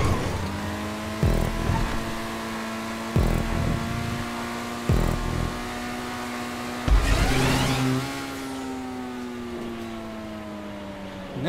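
Car engine in a GTA 5 Online stunt race, droning with a steady mid-pitched tone and repeatedly revving, with several sharp bursts as gears shift and a brief louder surge of acceleration before settling back to a sustained hum.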